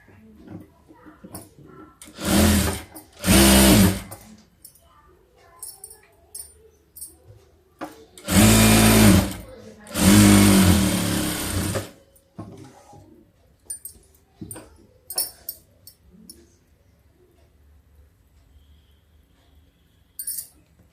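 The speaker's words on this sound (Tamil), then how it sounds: "இப்போ மேலே ஒரு படிமான தையல் போட்டுக்கலாம்." A sewing machine stitches a patch onto fabric in two pairs of loud whirring runs, each lasting about a second. Light handling clatter follows, with quieter taps and rustles between the runs.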